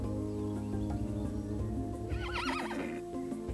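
A horse in the farming video game Roots of Pacha lets out a clear, wavering whinny partway through, over a steady bed of background game music and ambience.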